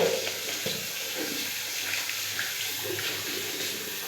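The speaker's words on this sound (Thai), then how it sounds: "เสร็จแล้วเราก็ล้างน้ำเปล่าเด้อ" A makeup sponge is rinsed under a running tap, giving a steady close splashing rush of water with no talking.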